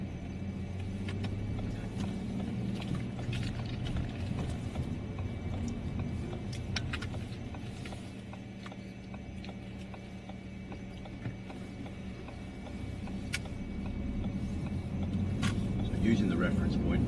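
A steady engine drone and low road rumble from a car underway, with faint clicks and mechanical rattles throughout and no voices.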